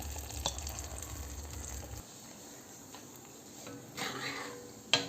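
Crushed cardamom fries for caramel palada payasam with a faint continuous sizzle and light stirring scrapes, a low hum dropping out partway, then a sharp utensil knock near the end.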